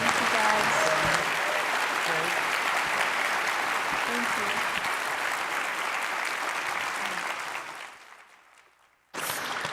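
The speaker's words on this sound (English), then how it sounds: "let's have one more round of applause for Zan and Ben and Jen" A conference audience claps in loud, sustained applause that fades out toward the end, followed by a voice starting to speak.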